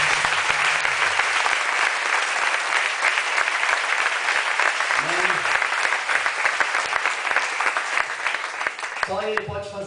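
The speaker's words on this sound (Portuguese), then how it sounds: "Você pode dar uma salva de palmas para Jesus?" A church congregation claps loudly and steadily in a dense, continuous burst, with short sung or spoken voice fragments rising over the applause near the middle and at the end.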